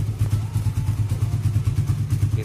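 A motorcycle engine runs at a steady idle, its low throbbing pulse close and loud with light mechanical clatter, continuing unbroken across the short stretch without any cutoff.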